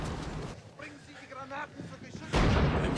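Cannon artillery fire in a World War II battle scene from the Band of Brothers episode "Day of Days" ends in a loud, sudden blast, with voices speaking beforehand over a rumbling battlefield.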